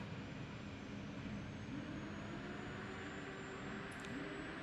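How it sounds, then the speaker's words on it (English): The jet fuel starter of an F-16C in the DCS flight simulator cranks up with a steady, even, airy whine and rumble, faint and unbroken throughout, with no voices. "activating the jet fuel starter. We're going to hear that crank up."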